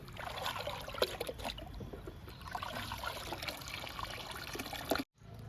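Homemade liquid fertiliser is poured onto garden plants in a soft, continuous trickle and splash lasting several seconds, close and fairly quiet, ending abruptly.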